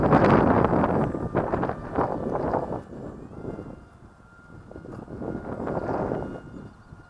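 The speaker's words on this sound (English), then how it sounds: "Very strong the wind today." Strong wind blows outdoors and hits the microphone. The rumbling gusts rise and fall, loudest at the start and swelling again near the end.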